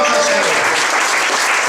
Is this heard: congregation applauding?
yes